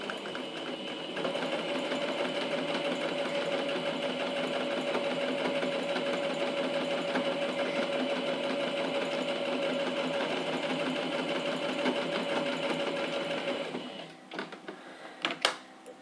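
A sewing machine topstitches fabric for a pencil case with a voile window, running in one steady, loud continuous whir for about fourteen seconds before stopping, followed by a few short clicks and handling noises.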